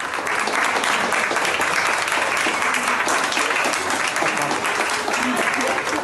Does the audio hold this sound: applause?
yes